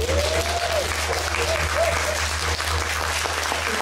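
Steady audience applause during a dance preparation session in Sopot, a dense even patter of clapping throughout with a faint voice-like tone and low hum underneath.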